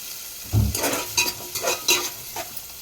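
Curry leaves frying in a pan for a tomato and drumstick curry, opening with a sudden low burst of hot oil and then a crackling sizzle punctuated by several spoon stirs, close and brief.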